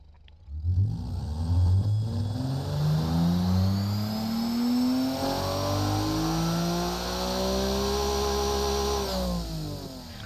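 Simulated RB28 2.8-liter ethanol-fueled engine from the Automation car game revs up loudly and steadily, its pitch climbing and holding in one long sustained pull before easing off near the end, with a faint whine layered above.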